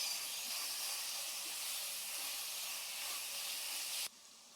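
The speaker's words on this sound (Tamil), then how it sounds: "இப்போ நம்ம எடுத்து வச்சிருக்கிற தக்காளியை இதுல சேர்த்து நல்லா வதக்கிக்கலாம்." Tomatoes and curry leaves sauté in a pan for a mutton chukka, giving a steady, soft hiss of frying that cuts off abruptly near the end, with no talking.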